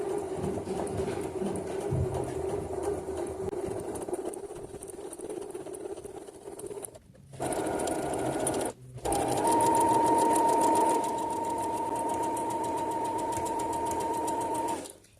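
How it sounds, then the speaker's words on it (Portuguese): Domestic sewing machine stitching knit fabric at a slow, lowered speed, a steady close mechanical whir with a brief pause before the stitching resumes and runs on evenly to the end. "Vou abaixar bem a velocidade da máquina. Vamos costurar isso devagar."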